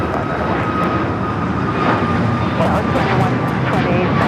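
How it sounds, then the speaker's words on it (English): A Southwest Airlines Boeing 737 MAX 8 takes off from LAX, its jet engine roar loud and steady throughout, with people talking over it. "This is Southwest Airlines 2128 taking off to Austin on the MAX 8."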